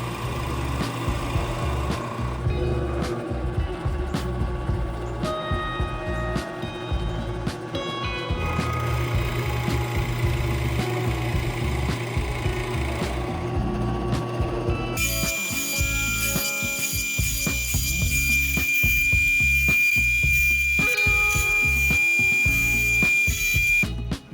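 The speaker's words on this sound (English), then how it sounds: "And it's a whole bunch of drilling." Repeated bursts of power drilling into walnut, with a whining motor starting and stopping many times at close range.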